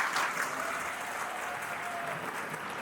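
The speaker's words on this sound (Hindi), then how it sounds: "इनके लिए ताली बजाइए।" Audience in a medical college lecture hall claps together, a dense, steady burst of applause that fills the room and fades slightly toward the end.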